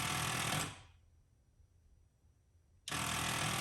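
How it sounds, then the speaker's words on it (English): Electric vacuum pump on a 1990 Corvette C4 ZR1 with the ignition on, running with a loud steady buzz, cutting off into near silence for about two seconds, then switching back on abruptly. "that's the pump coming on. And it's cycling on and off."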